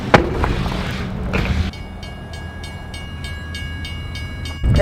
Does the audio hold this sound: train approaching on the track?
yes